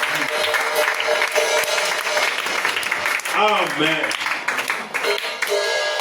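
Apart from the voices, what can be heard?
congregation applauding in church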